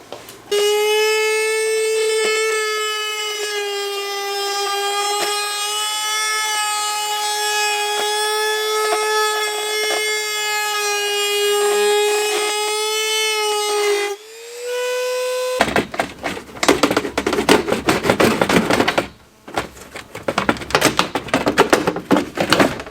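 A panel is cut from a crashed Audi body with a power cutting tool. A steady, sustained whining cut runs for about fourteen seconds, then gives way to louder, rougher grinding and rasping bursts near the work.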